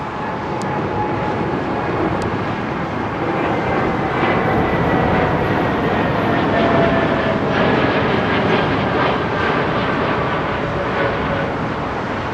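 A departing jet climbing out from runway 09R at London Heathrow, a loud, continuous broadband engine roar with a faint whine, steady and close throughout.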